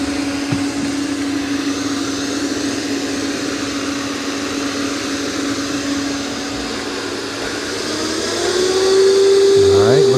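A Roomba 505 robot vacuum mops a floor with a steady, close motor hum that holds an even drone, then rises in pitch and grows slightly louder near the end.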